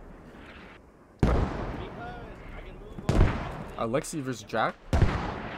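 Sharp, loud gunshots from the Squad shooter game, about three separate blasts, each with a short ringing tail, mixed with a caster talking excitedly between and over them.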